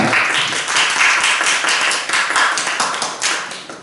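Church congregation clapping together, a dense, steady round of applause from many hands filling the room for several seconds without talk.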